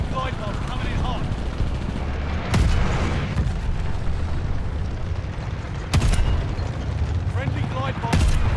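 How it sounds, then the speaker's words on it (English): Heavy booming blasts from a glide bomb strike in Call of Duty Vanguard, three sharp loud impacts spaced a few seconds apart over steady battlefield rumble and gunfire, with speech mixed underneath. "Enemy glide bomb coming in hot."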